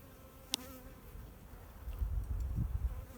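Honeybees hum and buzz around an open hive during a spring brood-frame inspection, a soft steady drone that swells louder near the end, with a sharp tap early on.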